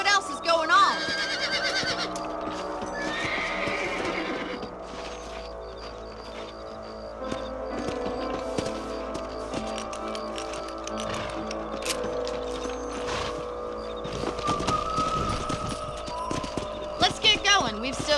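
Rhythmic hoofbeats of horses trotting in Red Dead Redemption, with occasional whinnies, under ongoing talking voices and background game ambience.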